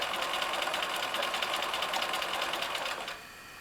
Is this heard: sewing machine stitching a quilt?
yes